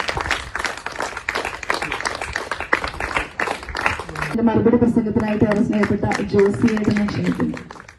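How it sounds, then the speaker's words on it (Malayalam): Applause from the audience at the inauguration of a newly built anganwadi building, a burst of clapping under and after a speaker's voice, followed by background music. "കൈയടി ഒരു നല്ല നല്ല കൈയടി തന്നെ ക്ഷണിക്കുന്നു"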